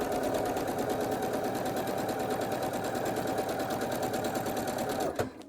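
Sewing machine stitching a quarter-inch seam along fabric with a seam guide, a fast, even, continuous whirring rattle up close that stops abruptly at the end, with no talk.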